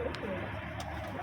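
Domestic pigeons coo softly and steadily in a loft, a low continuous murmur with a few faint chirps over it.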